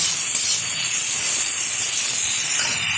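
Sliced tomato stirred into fried onion in a pan, a loud steady sizzle and hiss with no voices.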